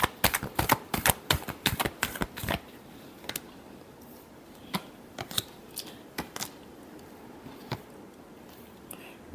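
Tarot cards are shuffled in a quick burst of crisp, rapid snaps and flicks for a couple of seconds, followed by scattered soft clicks against a quiet background.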